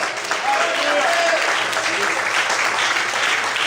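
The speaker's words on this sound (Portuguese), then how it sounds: "Será que você pode aplaudir e exaltar o Senhor?" A church congregation applauds during a sermon about Elijah and the widow's oil, with steady dense clapping filling the whole stretch and faint voices and tonal sounds mixed in.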